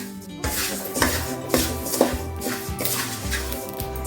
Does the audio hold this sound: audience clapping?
no